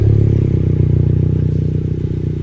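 A warm 2020 Honda Civic Si idling just after startup through a MAPerformance front-pipe-back street exhaust, a loud, close, steady low burble with a fast even pulse and no voices.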